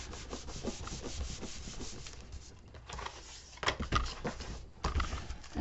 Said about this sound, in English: then I will burnish all of this down